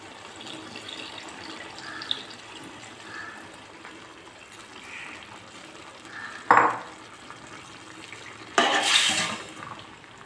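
Tamarind water poured into a simmering garlic kulambu, a low bubbling simmer with two sudden loud splashing pours and a faint clink of a utensil.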